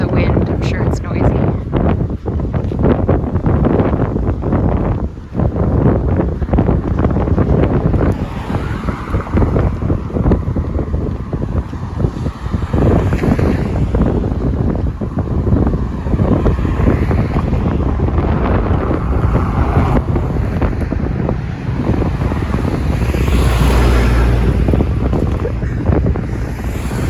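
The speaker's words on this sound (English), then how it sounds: "Apologies for the wind, I'm sure it's noisy." Loud, constant wind buffeting the microphone throughout a walk near the St Andrews Lock and Dam in Lockport, Manitoba, with rumbling gusts and a person speaking now and then underneath.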